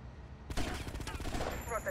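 Shotgun fire in a video game: after a quiet moment a sudden burst of blasts and rattling shots erupts loud and close, with a voice faintly underneath.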